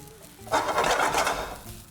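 Rice for restaurant-style chilli rice is tossed and stir-fried in a hot pan, giving one burst of sizzling and scraping that lasts about a second and a half before fading.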